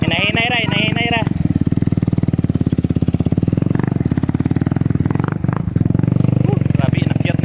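Suzuki Raider motorcycle engine running steadily while descending a mountain road from Sanchez Peak, a loud continuous putter close by, with voices talking over it at the start.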